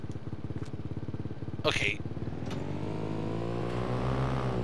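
KTM motorcycle engine idling in a farming simulator game, a steady low throbbing putter with a brief rev partway through, under a single spoken word.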